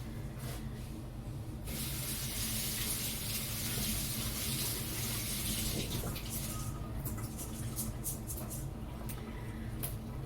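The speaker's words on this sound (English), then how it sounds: "I'm gonna just rinse it really quick first and then stick it in this pan." Brown rice being rinsed under a running kitchen tap, with a steady hiss of water that grows fuller and splashier partway through, continuing alone and fairly quiet without speech.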